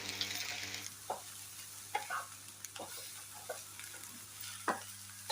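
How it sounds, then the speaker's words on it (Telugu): Carrot curry fries over a medium flame in a pan, a soft continuous sizzle broken by occasional scraping taps as it is stirred now and then; quiet and close, with no speech. "ఇలా మధ్య మధ్యలో కలుపుతూ కంటిన్యూస్గా ఫ్రై చేసేసుకోండి"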